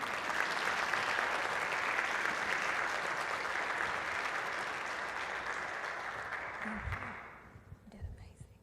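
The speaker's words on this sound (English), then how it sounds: "Let's give Sophia another round of applause." An audience at a school district address gives Sophia another round of applause, a full, steady clapping crowd that tapers off after about seven seconds into a few scattered claps and quiet murmuring voices.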